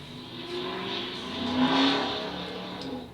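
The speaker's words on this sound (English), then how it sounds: "As someone revs right by my street" A car revs its engine as it drives past on a street, rising to a loud, close peak in the middle and then fading, with a whining engine tone.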